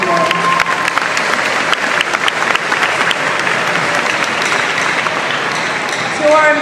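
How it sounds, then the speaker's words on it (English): Loud, dense applause from a school audience honoring a Board of Education, sustained steadily throughout with a crowd murmur beneath and a voice briefly heard at the start and end. "Let's give our Board of Education a round of applause."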